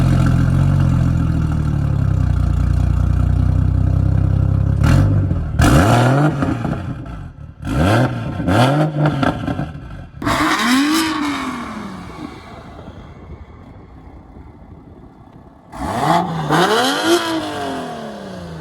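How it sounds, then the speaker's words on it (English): A BMW F80 M3 with a single turbo and exhaust work idles with a deep rumble, then fires off a series of sharp revs that climb and fall, several quick bursts followed by a final double rev, loud and close. "That single turbo and exhaust work and everything just really fixes that like raspy sound that these engines have"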